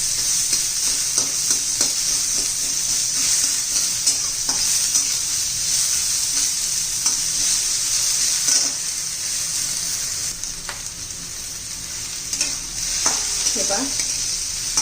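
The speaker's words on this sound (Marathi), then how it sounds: "परतून घेऊया, भाजून घेऊया." Thin, upright-sliced onions sauté in a hot pan with a constant bright sizzle, broken by scraping strokes of a spatula stirring them around, close and without talk.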